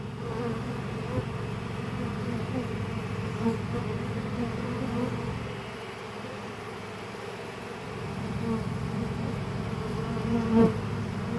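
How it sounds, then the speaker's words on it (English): A dense swarm of bees buzzes steadily and loudly up close, a continuous droning hum with no voices. "There's a lot of bees all over the ground."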